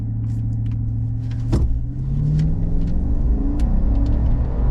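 A 2026 Chevrolet Silverado with a 5.3-liter V8, in sport mode and four-wheel-drive auto, makes a boosted launch. A steady low engine rumble jumps sharply at the launch, then continues as a loud, rising drone while the truck accelerates.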